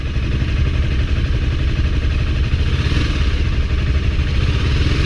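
A motorcycle engine drones loudly and continuously while racing an e-bike, heard as a steady mid-pitched rumble mixed with wind rush throughout, close up and with no talking.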